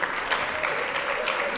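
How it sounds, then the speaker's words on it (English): A short burst of steady clapping from an awards-ceremony crowd, dense and even throughout with no voices standing out. "Once again, a round of applause for our Lifetime Legacy"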